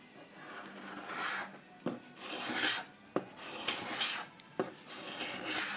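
Heavy-duty scraper rasping sticky residue off stained wood in repeated rough strokes, each pass a harsh scratchy rub punctuated by sharp clicks as the blade lifts and resets, close and fairly loud with no talk.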